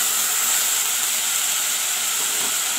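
Potato and brinjal frying in a pan, a steady bright sizzling hiss of oil that holds constant and fairly loud from start to finish, with no voices.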